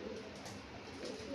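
Pigeons nesting around a home kitchen coo faintly, a low soft murmuring under a steady background hiss.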